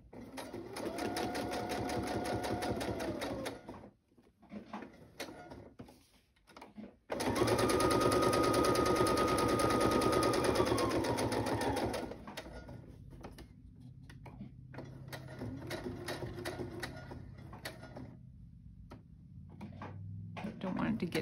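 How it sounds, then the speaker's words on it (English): A sewing machine runs straight stitching on decorative paper ephemera in two bursts with a pause between them, followed by quieter rustling handling sounds. The machine whirs steadily at close range. "This one, we're straight stitching."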